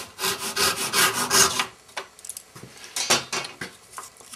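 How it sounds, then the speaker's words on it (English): The crosscut side of a hand saw scratches a small starting notch into a wooden wedge for a honing guide: a quick burst of brisk rasping strokes, then a few lighter, scattered scrapes and taps, close and clear. "a tip I picked up from Michael Huntley, using the crosscut side of the saw just to create a little indent to let the rip teeth get a grip on it."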